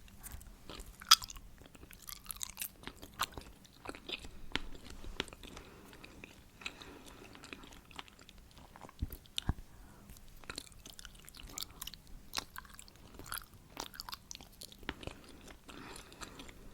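Close, quiet chewing and soft biting on gelatinous Halloween candy in an ASMR tasting, with irregular wet clicks and squishes and no talking.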